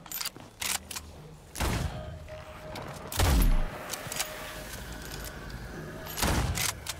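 Gunfire in the zombie-filled survival game Nightingale: a few loud, sharp shots burst out several seconds apart, with quieter clanks and thuds in between.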